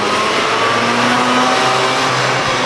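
A 1992 Mazda RX-7 Type R rotary engine revs with a loud, steady buzzing drone and a slight rise in pitch, close by and brief, with no voices.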